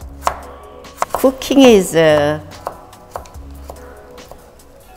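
A chef slices a carrot with a knife on a cutting board for temple cuisine bibimbap, sharp close chops heard as separate knocks, while someone speaks over and between the cuts.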